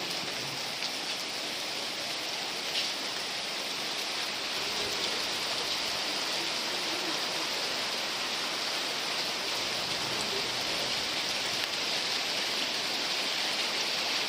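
Steady rain pours down outdoors in a dense, even hiss that holds unchanged throughout, with no voices over it.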